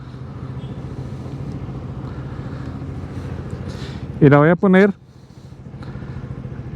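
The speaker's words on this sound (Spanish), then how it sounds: "Voy a apagar la moto mientras tanto." A Bajaj Boxer CT100 motorcycle idles with a steady low, even putter while someone speaks Spanish over it in short phrases.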